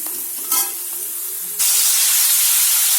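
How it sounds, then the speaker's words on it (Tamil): Veg fried rice with cabbage and capsicum sautéing in a hot pan, a brief clatter followed by a loud, steady hiss of frying that swells abruptly and fills the rest, close up with no voices. "இப்போ அடுத்து கேபேஜ், கேப்சிகம் எல்லாத்தையுமே இதில் போட்டிருக்கோம். இதை நம்ம நல்லா வதக்கணும்."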